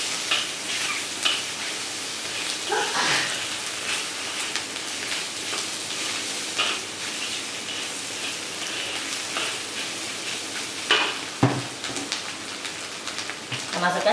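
Choy sum sizzles and crackles as it is stir-fried in a hot pan for a vegetarian-meat vermicelli stir-fry, with a steady hiss broken by louder scraping stirs of the utensil.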